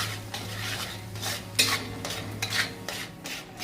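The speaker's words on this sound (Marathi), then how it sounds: "तर बघा मस्त असा मसाला आपला फ्राय झालेला आहे." Masala for a village-style drumstick pod curry being stirred in a pan, with repeated scraping strokes of a spoon against metal over a soft, steady sizzle; close and moderately loud, no voices.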